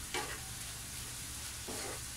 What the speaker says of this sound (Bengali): চুলার আঁচ মিডিয়ামে রেখে নারকেলটা কিছুক্ষণ ভেজে নিব